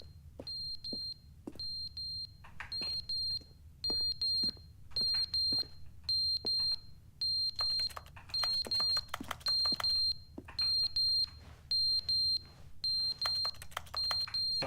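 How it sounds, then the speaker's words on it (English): Beeping from the video game The Stanley Parable: a repeated electronic high-pitched beep pulsing in regular bursts, loud and clear over a quiet background with occasional small clicks, with no speech. "There is a beeping sound."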